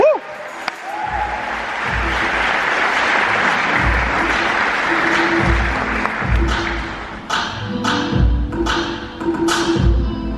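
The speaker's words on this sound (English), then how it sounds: "Give a round of applause." An audience at a TEDx event breaks into a loud, sustained wash of clapping that swells and then fades into scattered claps and thumps, with voices talking over it.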